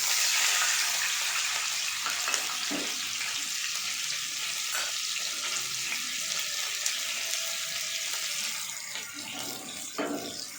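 A loud, continuous hiss of water hitting a hot pan of semolina, steady sizzling that eases slightly near the end, with a few clinks of utensils.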